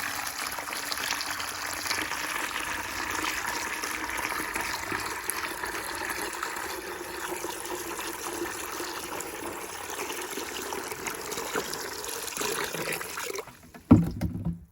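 Wood ash is stirred into a bucket of water, producing a steady watery swishing and sloshing that continues for most of the time, ending with a brief knock.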